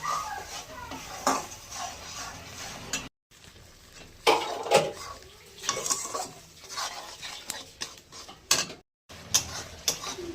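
Spices for a bhola fish curry, with turmeric and a little sugar, being sautéed in a pan, with a low sizzle and repeated clinks and scrapes of a spatula against the pan, briefly cut off twice.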